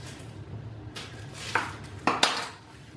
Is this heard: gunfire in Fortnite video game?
no